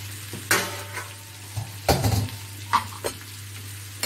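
Boneless chicken pieces stir-fried in a pan sizzle softly and steadily, with several louder scraping and clattering strokes of a spatula against the metal at irregular intervals.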